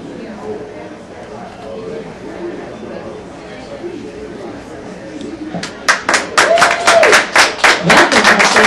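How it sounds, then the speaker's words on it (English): A live lunchtime radio audience in an Italian restaurant murmurs and chatters at first, then breaks into loud, close clapping for the final few seconds. "I'm going to cue everybody to applause."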